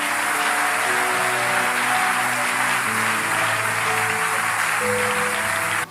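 A church congregation applauds steadily and loudly for several seconds, a dense, continuous wash of clapping with faint musical tones beneath it.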